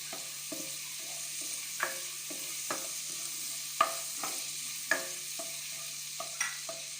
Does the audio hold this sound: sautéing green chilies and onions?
yes